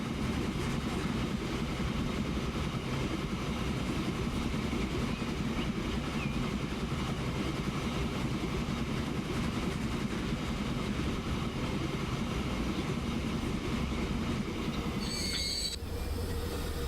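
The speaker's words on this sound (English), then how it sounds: "Just gotta wait for that train to make its delivery." A train runs steadily in the Transport Fever strategy game, a continuous loud rumble of wheels on rail with squealing, and a brief higher-pitched whine near the end, with no one talking.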